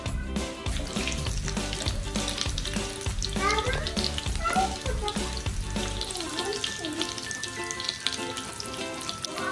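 Chicken drumsticks fry in hot oil with a steady, bright sizzle and crackle, loud and close, while music plays throughout and the sizzling thins near the end.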